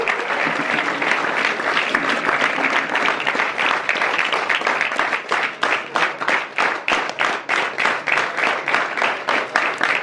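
An audience at a shooting ball champions event in Annamayya district claps for Gupta sir, a dense wave of applause that thins into distinct rhythmic claps toward the end.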